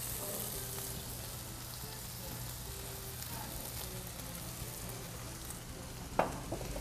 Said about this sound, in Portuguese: Duas fatias de bacon. Que eu entro com um pouquinho de azeite.